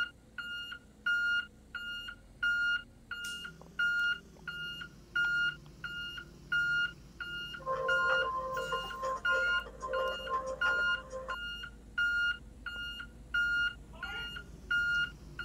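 A 2015 Thomas HDX CNG school bus backup alarm in the Rigs of Rods simulator beeps in a steady, evenly spaced series of short electronic tones over a low engine idle, with a brief clatter of extra tones midway.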